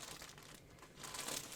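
Plastic packaging crinkles and crackles in a close, continuous rustle, swelling louder toward the end with brief quieter moments in between.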